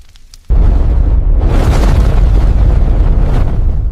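Massive explosion sound effect: a sudden deep boom erupts after a quiet moment and swells into a long, loud, rumbling roar that sustains and slowly churns to the end.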